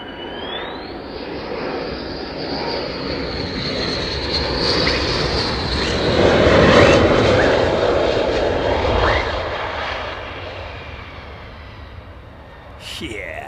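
Fighter jets of the 48th Fighter Wing roar overhead, the engine noise swelling from a distant whine to a loud, rumbling peak midway, then fading, with people talking faintly underneath.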